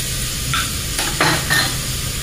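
Onions browned with spices frying in a pan for mixed dal, a steady low sizzle with a few clinks of a spoon stirring against the pan.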